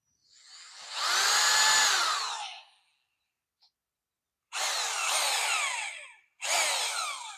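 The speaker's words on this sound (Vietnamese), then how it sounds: "Đây là chế độ khoan nè, khoan không có búa ha." A used Japanese-import power drill spins in plain drill mode without hammer action, whirring in three separate bursts: a long first run, a pause, then two shorter runs close together. No one speaks.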